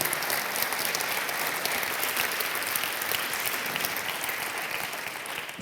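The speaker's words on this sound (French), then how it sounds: "applaudissez-les" An audience at a French mentoring month launch ceremony applauds the mentoring companies, a dense, sustained wash of clapping from a large crowd that holds steady and loud without talk.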